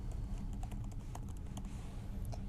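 Fingers typing on a computer keyboard, a quick irregular run of light key clicks, close and fairly soft over a low background hum, with no one talking.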